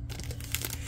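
A Yu-Gi-Oh card pack being torn open, a brief crinkly rip of foil wrapper, close and alone.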